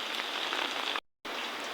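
Rain pouring steadily at a mountain homestay, a dense close hiss of drops on surfaces, interrupted by a brief silent gap before resuming at the same level.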